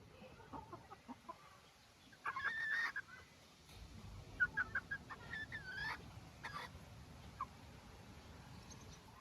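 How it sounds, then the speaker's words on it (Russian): Three young roosters in a farmyard cluck and call in short irregular bursts, some warbling calls rising above a steady rustling outdoor background at moderate distance. "И, по-моему, это все 3 петушка."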